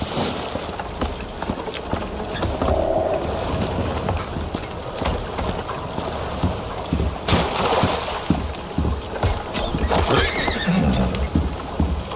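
A horse neighs in a video game amid dense, noisy ambience that sounds like rain, with a brief whinny rising above the wash near the end.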